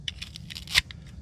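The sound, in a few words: scissors cutting hair off Roomba brush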